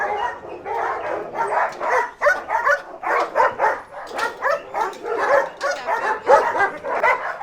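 A crossbreed dog at a dog breeding and training kennel barks repeatedly in quick, close, loud bursts, mixing barks with yips and whimpers in an uneven rhythm.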